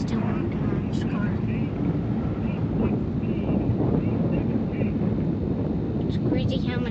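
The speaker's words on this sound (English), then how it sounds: "It's crazy how much wind is here. It's very windy this weekend." Strong wind roars steadily across a microphone at an outdoor drifting competition, a constant low rumble and buffeting throughout with faint voices talking underneath.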